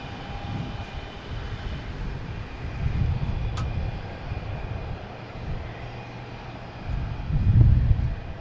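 Airplane landing at Boston Logan Airport: a steady, distant jet roar with low rumbling swells that builds toward the end.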